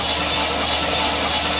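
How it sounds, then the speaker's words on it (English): Chevy Sonic engine turning over on the starter without catching, with no compression after a loud pop under the hood: a loud, steady mechanical churn held throughout, close up, with no voices. "Okay, so the engine is cranking."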